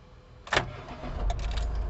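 An automatic-transmission car started with a push-start button: a short sharp starter whir followed by the engine catching into a steady low idle, close by, with no talk.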